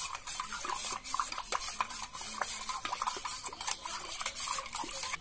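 A spoon stirs spiced raw mango sherbet with roasted cumin and black pepper in a container, making a steady run of light scraping and clinking strokes at close range with no talk.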